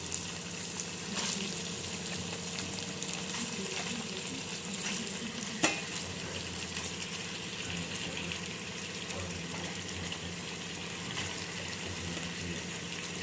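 Prawns with ginger garlic paste fry in a pan for a gongura curry, a steady close sizzle lasting throughout with soft scraping stirs and one sharp utensil clink partway through.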